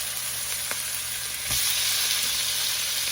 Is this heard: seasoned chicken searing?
yes